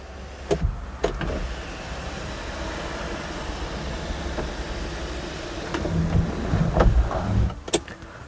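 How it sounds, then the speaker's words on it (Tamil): Motor whir of the electric sunroof opening on a 2015 Audi A3, a low steady hum with a few clicks and thumps at the start and end, heard close inside the cabin with no talking. "உங்களுக்கு சன் ரூஃப் இருக்குது பாருங்கள் பாருங்கள்."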